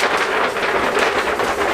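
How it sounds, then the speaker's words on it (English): A thunder sound effect fills the space with a dense, steady rolling rumble and hiss, loud and continuous throughout, with no distinct crack. "Want some thunder effect?"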